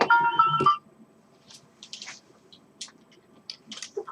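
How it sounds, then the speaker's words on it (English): A phone ringtone sounds as a short, bright melodic burst lasting under a second, then stops, leaving near-quiet with only faint scattered clicks. "Wait a moment, that's my phone."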